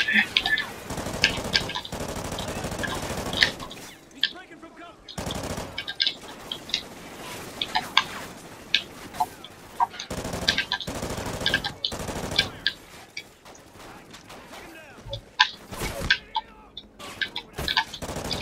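Gunfire in Call of Duty: Ghosts: bursts of automatic and single shots come in uneven clusters with short gaps, loud and sharp over a battle background.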